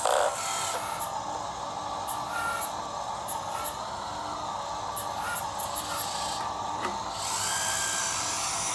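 Hydraulics of a 1/14 Super Frog BM214 RC truck-mounted folding forklift whine steadily as the fork returns to its preset angle, a quiet high-pitched motor drone with a few brief ticks and shifts in tone.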